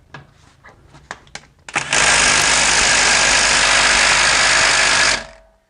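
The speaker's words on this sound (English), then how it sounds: "We're going to redo this test using that same mid-torque impact gun." A mid-torque impact gun with a deep socket and torque stick rattles in a few short bursts, then runs in one loud, continuous buzzing hammer for about three seconds before spinning down.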